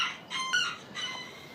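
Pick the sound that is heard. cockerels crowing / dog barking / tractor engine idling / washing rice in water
cockerels crowing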